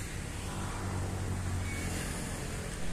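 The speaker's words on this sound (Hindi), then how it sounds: "आप मेरे पीछे देख सकते हैं पूरा जाम हो चुका है गाड़ी का।" Cars sit in a traffic jam near the Naranarayan Setu bridge, a steady low rumble of idling engines and road noise, continuous and moderately loud with no talk.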